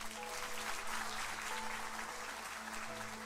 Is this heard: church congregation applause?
yes